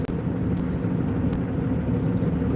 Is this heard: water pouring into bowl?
no